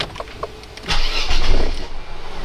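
A Mercedes 320CE A124 convertible with a 5-speed automatic is started: a brief starter crank, then the engine catches and settles into a steady, close idle rumble, no voices.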